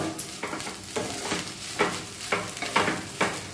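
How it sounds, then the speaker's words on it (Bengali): Fried egg stirred into egg chicken chow mein in a hot pan, rhythmic scraping strokes roughly every half second over a steady sizzle, close and clear with no talking. "ভেজে রাখা ডিমটা দিয়ে দেবো এবারে এটাকে আমি সুন্দরভাবে মিশিয়ে নেব"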